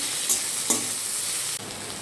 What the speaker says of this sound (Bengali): এবার আমরা সবজিগুলোকে সব একেবারে ভেজে নেব হালকা করে